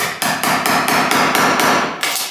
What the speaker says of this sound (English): So I'm just chiseling it out, and it's pretty simple to do.